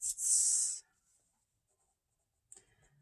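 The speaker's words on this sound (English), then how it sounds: "So I will write those in." Pen writing in a Passion Planner: a close, scratchy burst of writing lasting under a second, then near silence before a brief second stroke.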